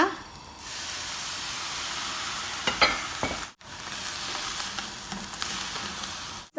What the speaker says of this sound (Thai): เรามาคั่วหอมแดงหอมขาวกันนะคะ ใส่น้ำลงไปนิดนึงนะคะ